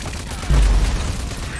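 Automated turrets fire in the Rage 2 video game: a brief burst of gunfire with a heavy low thump, loud and close, over a dense wash of game noise.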